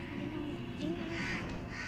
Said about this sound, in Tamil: இப்போ நம்ம போய் காக்காவை சுட போறோம்